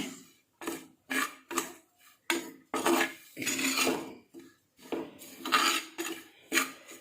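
A spoon scrapes around a pan as chili powder is roasted over low heat for a trevally fish curry, about ten rhythmic scraping strokes separated by brief pauses, close and clear.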